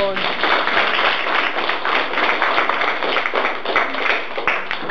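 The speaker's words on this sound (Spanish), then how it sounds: "Muy bien, aplausos." A school group claps for students, a loud, dense burst of many hands applauding close by that continues steadily.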